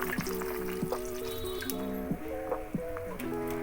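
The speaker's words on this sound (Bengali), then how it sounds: "এবারে আমি একটু দুধে গোলা আটা দিয়ে দিলাম।" Flour mixed in milk poured into a beetroot chicken stew, soft dripping and gurgling liquid sounds with a few gentle plops, quiet and close.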